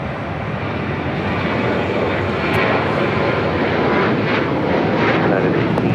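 An American Airlines 737-800 jet airliner roars down the runway at LAX on takeoff, a loud, continuous broadband engine rumble that swells slightly, with faint voices underneath.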